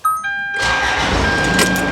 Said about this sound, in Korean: 시동 바로 잘 걸리고요